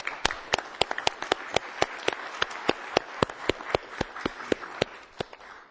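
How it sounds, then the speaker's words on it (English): Applause at a city council meeting for four city workers, heard as steady, sharp hand claps from a modest crowd in a hall, fairly close and clear, tapering off near the end. "if we could have a round of applause for the 4 of them"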